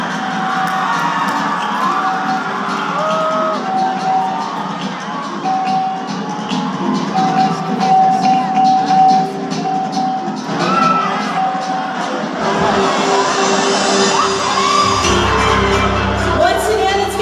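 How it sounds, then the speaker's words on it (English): Cheering and shouting from a crowd at the Hiyas sa Kadayawan 2023 final pageant competition, sustained and lively throughout with whoops and children's yells mixed in, swelling louder toward the end. "let's give a big round of applause for our 11 Hiyas sa Kalayawan candidates"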